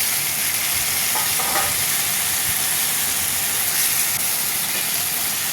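Stems and potatoes tipped into a pan of frying onions in a home kitchen give a loud, steady sizzle with bright hiss and faint stirring scrapes, continuous throughout.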